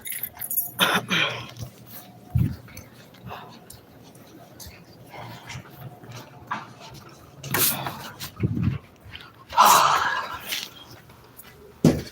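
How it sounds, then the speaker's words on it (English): Car keys jangle in short metallic bursts indoors, a few scattered clinks between quiet stretches, with faint whispering and other handling noise around them. "Here's the car keys."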